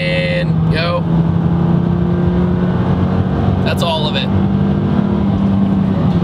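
A right-hand-drive Nissan Silvia S15 with an SR20 engine drones steadily under acceleration after a quick downshift, with brief rising whines cutting in twice.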